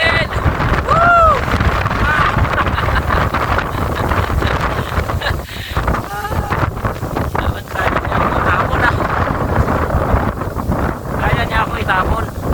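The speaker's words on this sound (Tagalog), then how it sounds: "Ang lakas ng hangin!" Strong gusting wind roars across the summit of Mount Balinsayaw, buffeting the microphone loudly and continuously while voices call out faintly beneath it.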